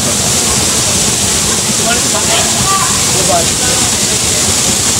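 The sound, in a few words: Puray Falls waterfall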